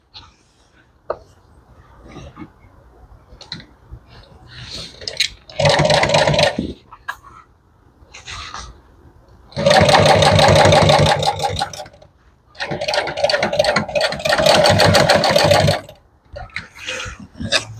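A sewing machine stitches auto upholstery in short loud bursts of rapid mechanical whirring, three main runs separated by quieter gaps with handling noises.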